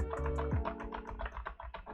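Random keys are pressed at irregular intervals on a computer keyboard, giving close, quiet clicks and taps over a low tonal hum.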